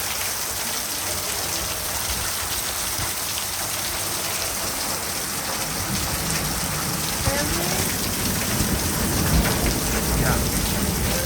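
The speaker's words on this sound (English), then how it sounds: "It is pouring down rain." Heavy rain pours down in a loud, unbroken roar, with deep rumbles of thunder rolling beneath the downpour.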